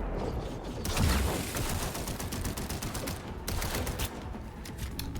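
Rapid bursts of gunfire from a weapon in Cyberpunk 2077, dense crackling volleys with mechanical clatter filling the whole stretch at moderate level.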